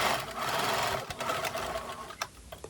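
Sewing machine stitching along the edge of a long linen bias-cut strip, a steady fast mechanical whir of the needle running continuously, then easing into a few slower separate stitches near the end.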